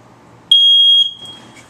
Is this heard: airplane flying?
no